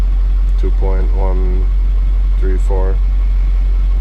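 A Ford F550 Powerstroke diesel truck idles steadily with a constant low hum beneath a voice, which speaks in two short bursts.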